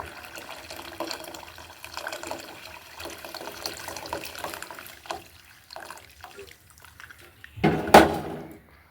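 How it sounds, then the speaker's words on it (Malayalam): Coriander water pours and trickles quietly through a steel mesh strainer while making rasam, ending with a brief, louder splash. "ഇതിൻ്റെ നെറ്റ് സ്റ്റീലാണ് അതിലൂടെ നമുക്ക് ഇത് ഒഴിച്ചു കൊടുക്കാം ഈ വെള്ളത്തിലേക്ക്"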